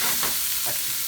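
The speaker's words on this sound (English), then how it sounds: "So you want to gently stir your shrimp" Shrimp are stirred gently in a hot pan, giving a short burst of loud, dense sizzling with soft scraping movements, close by and with no voices.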